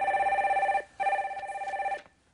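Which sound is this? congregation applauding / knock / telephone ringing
telephone ringing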